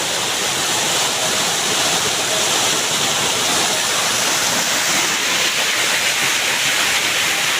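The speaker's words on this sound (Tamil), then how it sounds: "பாருங்க, அந்த அருவியிலேருந்து தண்ணி ஊற்றி இந்த பக்கம்" A waterfall pours with force, producing a loud, continuous, broadband roar of water that holds steady throughout with no talk.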